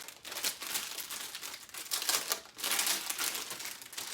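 A gold foil curtain is unrolled and opened close by with loud, uneven crinkling and rustling in bursts over several seconds, brief dips between them, and no voices.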